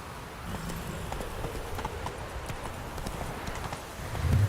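Roach, the horse in The Witcher 3, gallops with a quick, steady clip-clop of hooves, moderately close, building slightly louder toward the end.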